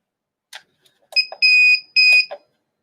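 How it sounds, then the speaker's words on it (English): A heat press timer gives two sharp, sustained electronic beeps, close and loud, framed by a few quiet clicks and rustles in a shirt-printing workspace. "So you're going to hear beeping and it beeps."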